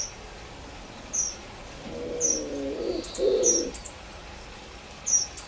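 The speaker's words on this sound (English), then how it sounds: "There's wood doves just over here nesting in this tree." Wood doves coo in a nesting tree nearby, a few soft low hooting phrases under clearer, sharp chirps from other birds repeating through the outdoor air.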